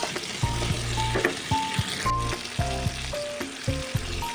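Onion and tomato fry in a pan, a constant close sizzle punctuated by rhythmic scraping and stirring strokes roughly every half second.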